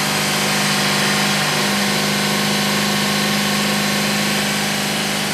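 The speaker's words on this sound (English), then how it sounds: "Let's rev it up as much as you can." A car engine fitted with a newly installed MAF sensor, revved up toward 3,000 RPM, drones loud and close with a steady, sustained tone and no voices.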